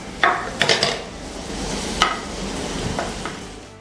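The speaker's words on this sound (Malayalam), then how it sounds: "എണ്ണ ചൂടായിട്ടുണ്ട്. നമുക്ക് പപ്പടം ഇട്ടൊന്ന് വറുത്തെടുക്കാം." Pappadam frying in hot oil gives a bubbling sizzle, broken near the start and again midway by a few sharp clinks and scrapes of a utensil against the pan.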